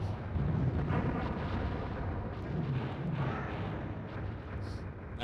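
Explosions in the video game Carnage Heart form a continuous, dense rumbling roar that stays loud throughout, with no clear breaks.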